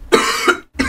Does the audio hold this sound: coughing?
yes